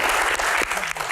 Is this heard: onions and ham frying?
no